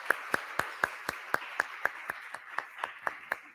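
An audience at the University of Macerata claps to welcome a lecturer, the claps falling in an even, steady rhythm about four per second, faint and slightly distant, with no talking over them.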